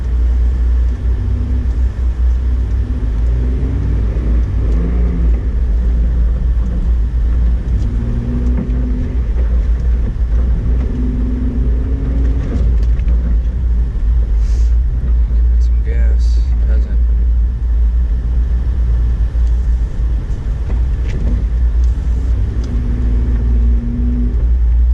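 A 2008 Honda Ridgeline pickup in four-wheel drive and first gear drives through blizzard snow in New York, its engine and road rumble a loud, constant drone inside the cab while a voice talks over it.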